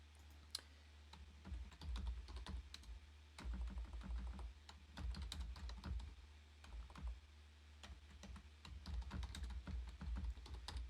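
Steady clatter of keystrokes on a computer keyboard, rapid irregular clicks in bursts with short pauses, close and clear with no talking.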